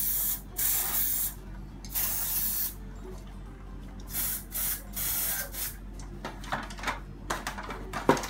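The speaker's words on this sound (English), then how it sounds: "Silicone spray, essentially, in addition to lubricating, it hardens on top of the plastic and provides a protective layer." Silicone spray hissing onto the plastic of a Bugaboo Bee stroller in repeated short bursts of varying length, separated by quiet gaps and light handling noises.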